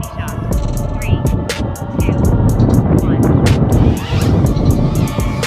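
DJI Neo 2 small drone flying outdoors in strong wind: a loud, close buzzing whir mixed with heavy wind buffeting on the microphone, steady throughout with several sharp clicks, while a person talks over it.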